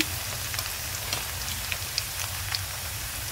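Garlic paste frying lightly with goat stomach in a pan for a Bengali vuri vuna, giving a steady soft sizzle with scattered crackles and pops, close and even throughout.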